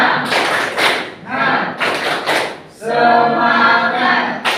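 A group at a class presentation performs a rhythmic spirit clap, with loud bursts of clapping in patterned beats and voices chanting along.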